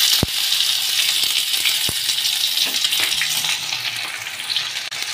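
Chopped onion frying in mustard oil with cinnamon, cloves, bay leaf and cumin in a wok, producing a loud, dense, continuous sizzle with a couple of sharp metallic taps from the spatula, close up.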